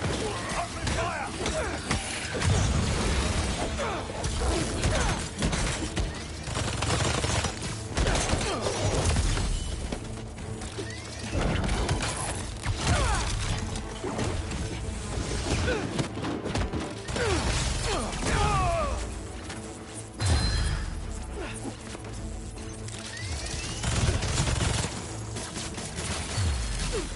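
Enemy gunfire in Marvel's Spider-Man 2, dense bursts and crashes of combat action running loud and continuous over a busy game soundtrack, with vocal chatter mixed in.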